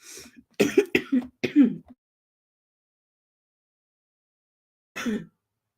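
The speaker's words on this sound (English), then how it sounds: "I still have a little bit of a cough" A short series of coughs and throat clearing close up, four or five bursts, then silence and one more brief cough.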